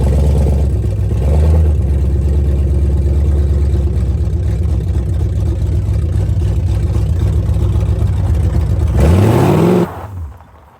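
A restored 1967 Mustang engine drones steadily and loudly while driving, then surges into a sweeping rev near the end before cutting off abruptly.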